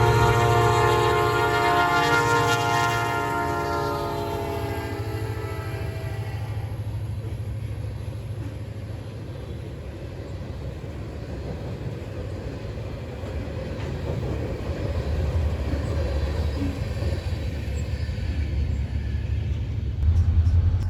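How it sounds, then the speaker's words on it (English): A GP40 diesel locomotive with P5 horn rumbles past on a sugar railroad, the horn sounding loud in sustained blasts early, then steady rolling wheel and engine roar. "Today the Fort Pierce turn had the 506, which is the P5 equipped GP40 on the roster."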